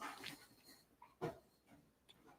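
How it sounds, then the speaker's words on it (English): Large pit bull dog, almost 80 pounds, making faint whimpering, snuffling and breathy noises in short irregular bursts, quiet and close. "And that dog is so noisy."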